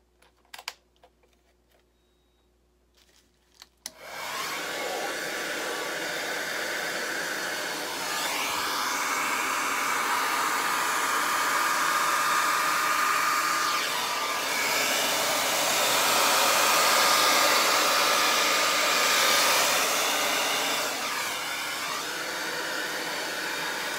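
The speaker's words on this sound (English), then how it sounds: "So I'm going to turn my blow dryer on and turn it on a high setting and on a cool setting and blow the white over the paint." A blow dryer on a high, cool setting pushes acrylic paint across a canvas in a Dutch pour, switching on after a few seconds of quiet and then roaring steadily and loudly, its airflow swelling and easing slightly as it moves.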